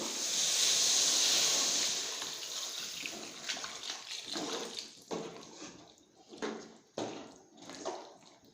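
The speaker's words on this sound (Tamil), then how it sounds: "காய் வேகிறதுக்காக தண்ணி சேர்த்துக்கலாம்." Water poured into a pot of vegetables cooking for vegetable sambar gives a steady, close hiss for about two seconds, followed by quieter intermittent splashes and kitchen clatter, with no talking.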